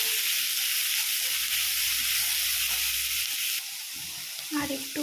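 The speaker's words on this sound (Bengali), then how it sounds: "পেঁয়াজটা আমার ভাজা হয়ে গেছে" Onion fries in a pan for Rajasthan-style baingan bharta. A loud, hissing sizzle fills the first few seconds, then drops to a softer frying crackle.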